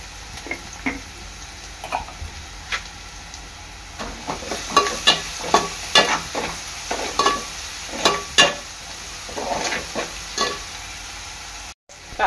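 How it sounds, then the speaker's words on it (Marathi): Onions fry in a pan and are stirred often until they turn red-brown. A steady soft sizzle runs underneath close, repeated scraping and clacking strokes of the spoon. "कांदा चांगला लाल होईपर्यंत शिजवायचा आहे।"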